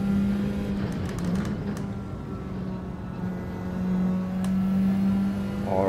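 Race car engine in Gran Turismo 7, a steady loud drone that holds a constant pitch and swells slightly as the car pushes on, with a few faint clicks and no speech.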